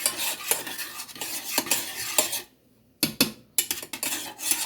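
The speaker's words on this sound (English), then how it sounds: "I'm just going to cook this into the pan so that my garlic could be a little cooked." Fresh garlic cooks in a pan with a soft sizzle while a utensil scrapes and stirs it in steady rubbing strokes, broken by a brief pause before more close scraping.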